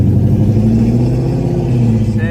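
A modified second-generation car pulls hard in third gear, its engine a loud, steady droning tone from inside the cabin that climbs slowly through the short stretch, with a voice briefly audible.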